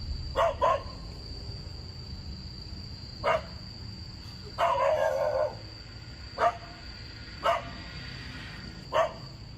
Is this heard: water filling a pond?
no